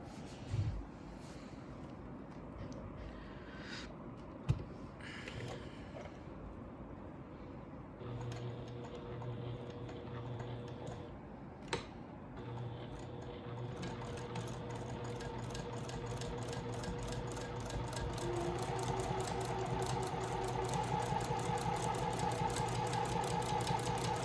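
A sewing machine stitches the side seam of a cotton and waxed canvas bag: quiet, steady, rapid mechanical ticking over a low motor hum, growing more continuous and slightly louder toward the end, with no talking.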